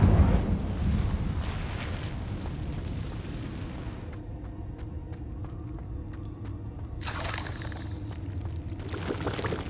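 The Incendio fire spell being cast in Hogwarts Legacy: a loud, roaring burst of flame with crackling blasts and whooshing surges that swell and fade over several seconds.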